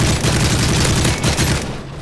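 Rapid automatic gunfire in the video game Modern Warfare 3, loud, dense bursts of shots continuing for about two seconds, then cutting off to quieter game ambience.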